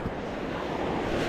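Ocean surf rolls and breaks near a shoreline used for catching lobster and fish, a steady close wash of waves mixed with wind buffeting the microphone.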